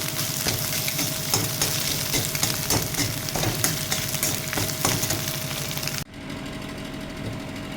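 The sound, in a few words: onion added to hot oil, frying for egg tadka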